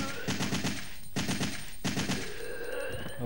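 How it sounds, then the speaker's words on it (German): Gunfire in the PS1 game Resident Evil 3: three rapid bursts of automatic shots, each a quick string of sharp cracks, loud and close, with a brief pause between bursts. "Ich möchte nicht mehr Schüsse benutzen als notwendig."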